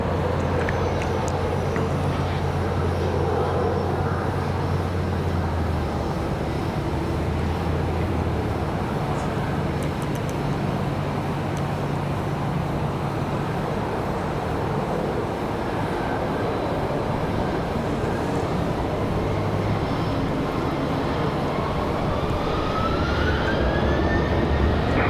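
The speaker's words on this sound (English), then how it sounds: "American Airlines 706. This one an A319 coming in from Philadelphia." An American Airlines Airbus A319 arriving at Raleigh-Durham airport from Philadelphia, a continuous low jet rumble at steady volume for the whole stretch, with a faint rising engine whine near the end.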